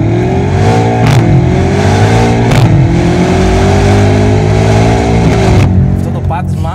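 A tuned Stage 2 BMW M5 making about 750 horsepower, ESP switched off, accelerating hard on the Autobahn. The engine note rises in loud repeated climbs, with sharp breaks at the gear changes, and a voice talks over it.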